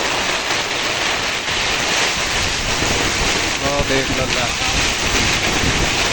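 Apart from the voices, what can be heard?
strong storm wind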